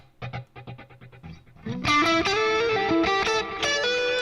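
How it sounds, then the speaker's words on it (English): An electric guitar with a reverb effect: a few short muted plucks, then sustained ringing notes and chords with a long, washy tail that fill the rest of the span, loud and close, without voices. "Now it sounds like there's reverb on there."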